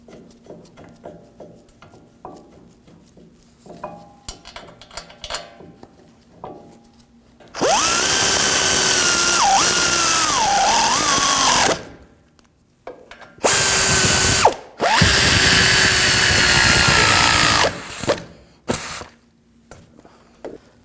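A power tool drives in the front brake caliper bolts on a 2015-2022 Chevrolet Colorado in two loud, sustained whirring bursts separated by a short pause, with quieter clinks and handling noises around them.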